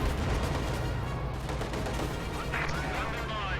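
Artillery rounds landing in a WWII strategy game battle, a dense run of booming impacts and crackling fire rolling on continuously, loud and close, with a brief higher burst near the end.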